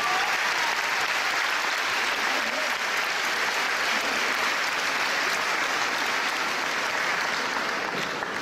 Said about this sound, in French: Un tonnerre d'applaudissements, c'est grâce à elle aussi.